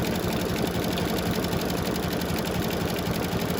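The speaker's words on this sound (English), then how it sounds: "So it's doing like a double stitch all the way around." An embroidery sewing machine runs a double stitch around an eyeglass case, a dense, fast, even mechanical whir with rapid needle chatter, steady and close without pause.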